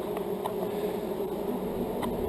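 A soft, steady buzzing hum of many honey bees around dislodged comb during a hive rescue, faint and continuous, with a few light taps in the background.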